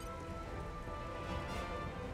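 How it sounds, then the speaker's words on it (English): Steady rain pours in a stormy scene in the video game Xenoblade Chronicles 2, a dense, even hiss of falling water that stays constant and fairly soft for the whole moment. "Whoa, it's stormy. It's fucking raining, bro."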